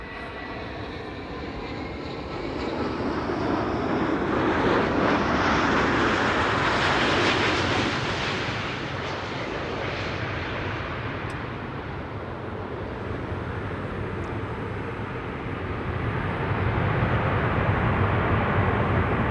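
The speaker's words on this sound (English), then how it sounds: "And a bit of reverser action to boot." A landing airliner at Amsterdam Schiphol roars past, its engines swelling into a broad thrust-reverser rush that peaks and slowly fades, then builds again, heard from a distance with no talk.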